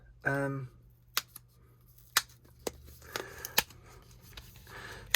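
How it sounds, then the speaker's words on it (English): Paper being cut with scissors to remove a papercraft piece from the middle, heard as a few sharp separate snips and clicks spread over several seconds, close and fairly quiet, with a brief voice near the start. "so I'm just going to cut that out from the middle"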